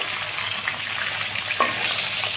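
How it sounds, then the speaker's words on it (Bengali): Katla fish heads frying in oil as they are turned over in the pan, a dense loud sizzle with a brief clank of a utensil midway, no voices. "মাথাগুলো একদিকটা ভাজা হয়ে গেছে আমি এরপরে উল্টে নিচ্ছি"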